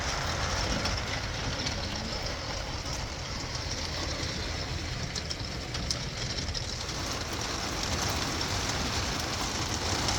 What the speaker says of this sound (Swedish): Det regnar det.